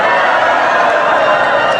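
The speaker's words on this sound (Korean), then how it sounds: "경기연회에서 우리 모두 한번 함성 지르겠습니다" A church congregation at a Korean Methodist spiritual retreat shouts together in one loud, sustained mass cheer, a dense crowd roar holding steady for about two seconds.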